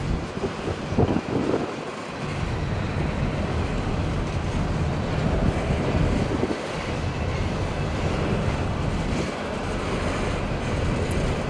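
Blustery, overcast spring wind at a rail line on the Osage Sub in Iowa rumbles and buffets the microphone steadily throughout, with a few brief lulls and no talk.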